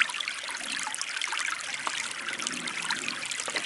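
Water trickling and gurgling into a 2-liter bottle dipped in a shallow creek, a steady close bubbling stream with no voices.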